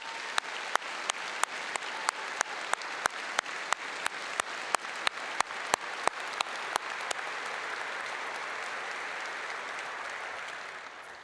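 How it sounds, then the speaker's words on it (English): A commencement audience applauds faculty and staff of a veterinary medicine college, a dense, steady wash of many hands clapping with a few sharp, louder claps standing out. It carries on unbroken and fades slightly near the end. "let's give them a round of applause"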